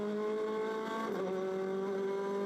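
A TCR touring race car at the 2015 Salzburgring pulls away from the Nockstein uphill, its engine wailing loud and close as it climbs through the gears, with a brief dip and shift of pitch near the middle.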